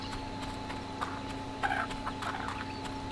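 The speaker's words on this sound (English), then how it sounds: "Chickens!" Chickens cluck in the video game Fable, a few soft scattered clucks over a steady ambient game background with faint hoof-like clopping.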